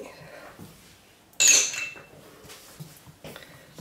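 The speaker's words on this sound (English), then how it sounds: "So give that a quick stir." A spoon stirs mica powder dissolved in oil in a small container for cold process coffee soap, giving a brief burst of clinking and scraping against the container, close and fairly loud, then quiet room tone.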